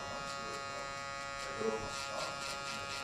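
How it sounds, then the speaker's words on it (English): An electric shaver buzzes steadily close up while shaving hair during a taper fade at a barber's chair, a faint continuous hum with slight rises as it moves over the head. "grab your shaver and shave halfway off"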